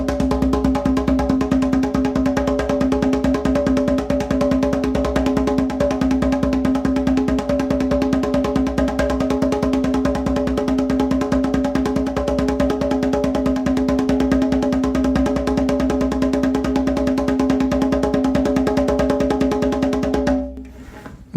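A drum struck in a steady, unaccented stream at eight beats per second, loud and continuous for about twenty seconds with a dense, humming resonance, no voices, before stopping abruptly.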